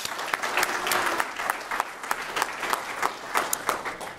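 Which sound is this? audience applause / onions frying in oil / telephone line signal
audience applause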